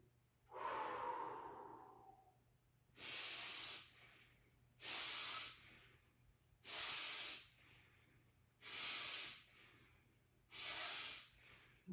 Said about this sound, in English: breathe out everything you don't want through the mouth. And then the warrior's breathing is through the nose.